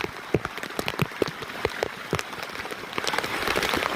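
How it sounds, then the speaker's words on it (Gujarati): Heavy monsoon rain pours down on a steep stepped pilgrimage path up the hill to Bhimashankar temple, a dense hiss of drops with sharp close splashes and patters that swell louder toward the end. "વરસાદ પણ એટલો જોરથી આવે છે કે વાત પૂછોમાં."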